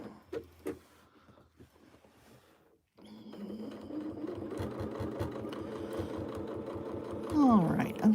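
A sewing machine free motion quilts a feather plume, its rapid mechanical stitching steady through the second half after a quieter stretch of brief sounds and pauses.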